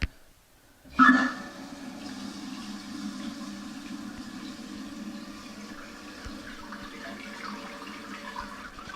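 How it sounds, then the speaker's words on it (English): Water rushes into a newly installed toilet tank after the supply is turned on. A sharp onset is followed by a steady, moderately loud hiss of refilling that continues alone. "we're ready to turn the water on and check for leaks"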